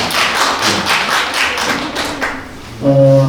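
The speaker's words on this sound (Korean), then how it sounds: "영상이 끝나면 박수 한번 치시면 고맙겠습니다." Residents at a neighbourhood housing redevelopment briefing in Simgok-bon-dong clap for about two seconds, a fairly close, steady patter of hands that fades out before a voice starts speaking.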